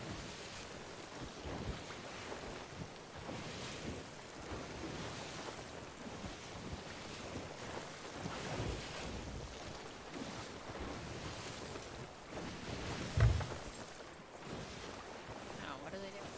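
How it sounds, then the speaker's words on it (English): Storm at sea in the pirate video game Sea of Thieves: a steady, fairly quiet roar of wind and rolling waves with gusty swells and one brief louder thump near the end. "Going into the storm."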